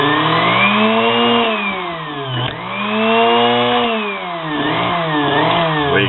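A homemade mini grinder's motor runs loud and continuous, its pitch rising and falling as it revs up and eases off.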